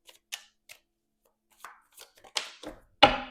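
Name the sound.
shuffling tarot cards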